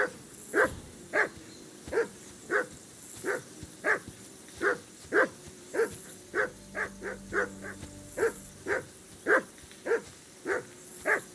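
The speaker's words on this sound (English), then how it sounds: "Henry, that barking's driving me nuts. Can you get your dog to shut its beak?" A dog in the Kingdom Come: Deliverance 2 video game barks repeatedly, about twenty sharp close barks in a steady rhythm roughly twice a second, loud and alone with no talk.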